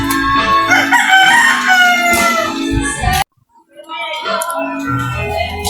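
A loud, close gamecock crow rings out, a brief silence follows, then more crowing and clucking resumes.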